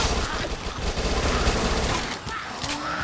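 Rapid bursts of SMG rifle fire crackle through a video game firefight, dense and continuous over a rumbling low end, with other chaotic game sounds mixed in.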